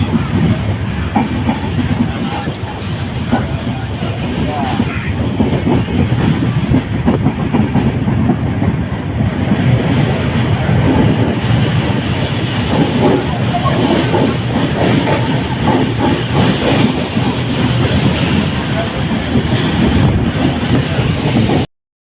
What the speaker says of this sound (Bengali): ট্রেন এখন গুমানিয়াটি স্টেশনে